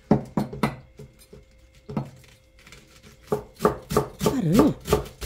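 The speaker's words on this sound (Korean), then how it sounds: "파를 송송송 썰어줍니다." A knife chops green onions (scallions) on a cutting board with quick, crisp taps in short bursts, close and clear, pausing briefly between runs before a faster flurry of cuts.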